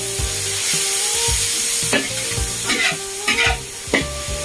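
Chicken breast for yakisoba fries in a pan with a loud continuous sizzle, punctuated by several hard scraping and knocking strokes of a spatula as it is tossed, and no talking.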